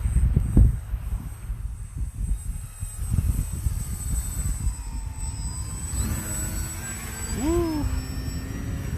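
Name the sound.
RC plane flying in the dark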